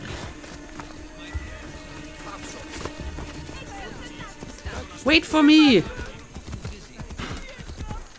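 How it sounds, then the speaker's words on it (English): A horse runs with steady clip-clop hoofbeats in the Ancient Greek game Assassin's Creed Odyssey, heard under a man's spoken line, with a loud whinny partway through. "I had to fetch my horse"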